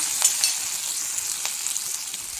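Garlic, ginger and green chillies sauté in hot oil for lemon pickle, making a steady close sizzle with a few soft stirring scrapes.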